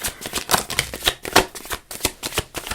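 Close-up shuffling of a tarot deck, with repeated papery riffles and soft slaps in an uneven rhythm.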